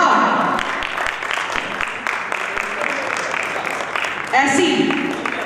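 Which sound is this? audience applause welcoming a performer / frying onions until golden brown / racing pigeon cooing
audience applause welcoming a performer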